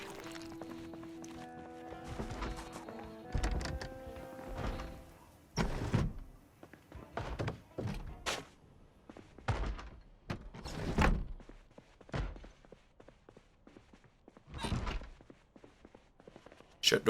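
Doors in a Louisville house in Project Zomboid bang shut one after another, a run of sharp close thuds and clunks spaced irregularly over a quiet background.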